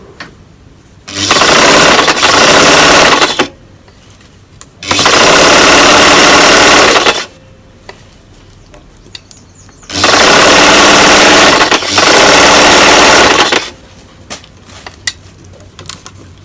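A sewing machine stitches a T-shirt dress in three loud, steady runs of a few seconds each, separated by quiet pauses with small clicks and handling noises.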